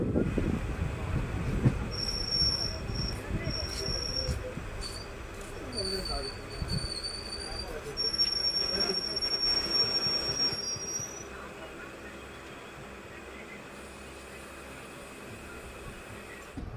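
A passenger train pulls out of Thuravoor railway station in Alappuzha, its rumbling wheels and carriages loud and close, with high squeals rising in the middle stretch before the noise eases off toward the end.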